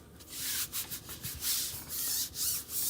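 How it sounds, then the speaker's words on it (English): Close, dry rubbing strokes as a Chalk Couture transfer is pressed down onto a hexagon surface: repeated scratchy sanding-like swipes in an uneven rhythm, with no talking. "Okay, so we're gonna just rub this down really, really well."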